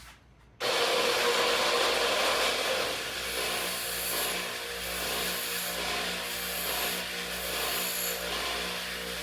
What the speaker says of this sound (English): I'm just going to take it and bevel that front end a little bit.